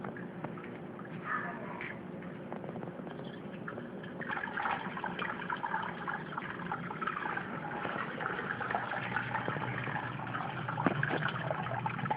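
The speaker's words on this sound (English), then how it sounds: "the next fun part will be getting all of this water to pour through here" Hot 150-degree water pours through a homebrew Oktoberfest mini mash, a steady, fairly quiet trickling and gushing that grows fuller partway through.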